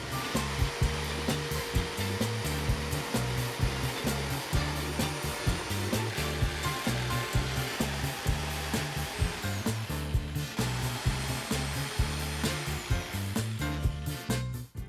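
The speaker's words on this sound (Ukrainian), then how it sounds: "Свердлимо отвори" An electric drill whirs steadily and loudly for the whole stretch, with a choppy, pulsing motor sound and brief dips, boring holes in a workpiece for a bunny-shaped Easter basket.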